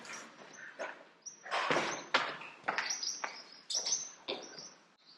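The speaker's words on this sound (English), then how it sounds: "Look at those baby swallows." Baby swallows chirp from nests inside a barn: a busy run of high, close tweets and calls, loud and irregular, with short bursts overlapping throughout.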